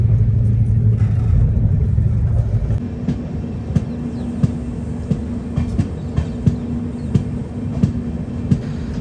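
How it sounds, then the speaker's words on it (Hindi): Dadar Jodhpur Express running at about 130 km/h, a steady loud rumble of wheels on rails with a droning hum and regular sharp clacks from rail joints throughout, no voices. "हमारी ट्रेन इस वक्त हिट कर रही है 130 की MPS"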